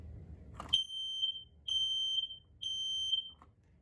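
A FireX G6 smoke alarm sounding during a test: three loud, piercing electronic beeps, each lasting just under a second and evenly spaced, preceded by a brief click and low background rumble.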